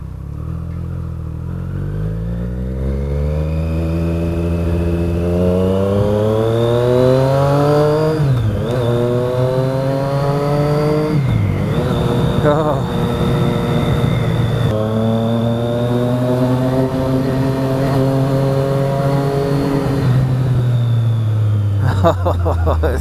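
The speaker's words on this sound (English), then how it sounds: "when you let off the power and the engine braking kicks in, you get that lovely burble and pop." Triumph Street Triple with an SP Engineering aftermarket exhaust revs loud and close, the engine note rising and falling through several throttle blips, with burbling and popping on the overrun as the revs drop.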